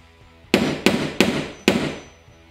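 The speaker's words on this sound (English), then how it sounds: "we'll take the nail set and then we'll get it at least sunk in at least a 16th of an inch" Four sharp hammer blows strike a nail set to sink a nail into wood trim on a wall, each crack close and loud with a short ringing decay, spaced unevenly over about a second.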